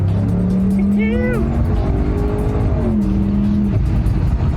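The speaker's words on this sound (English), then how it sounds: "I just can't get enough of this exhaust though." An Audi C5 RS6 engine drones loudly, with a rising rev and exhaust rumble under a voice talking close by.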